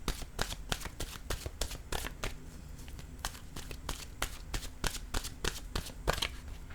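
A deck of cards is shuffled to draw a new card, a close, soft run of rapid riffling and flicking snaps repeating in quick bursts without pause, with no talk over it.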